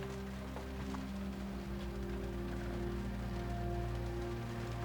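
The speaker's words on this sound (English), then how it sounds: "Well, here's the rain." Heavy rain pours steadily in Charleston as a dense, constant hiss under a low, continuous rumble, with no talking.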